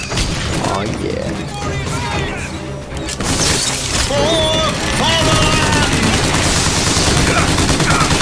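Gunfire from a shotgun in the shooter game Bioshock Infinite, heavy blasts and crashes layered with game effects and music while a player talks excitedly over it throughout.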